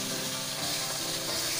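Tomato paste fries with masala and turmeric in a pan for a black chickpea curry, a continuous, dense sizzle heard up close and fairly quiet for a brief moment, with no talking.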